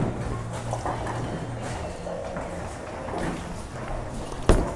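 A Roto Grip UC2 bowling ball with a strong core and weaker pearl cover rolls down the lane in a steady low rumble, ending in a sharp, loud crash near the end.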